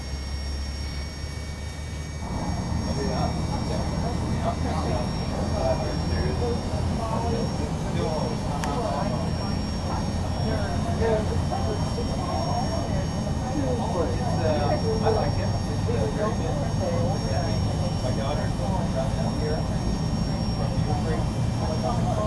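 A Boeing 757-300 jet engine spooling up and running steadily in the X-Plane 12 flight simulator, a continuous loud roar with a high whine that swells after a quiet start and holds.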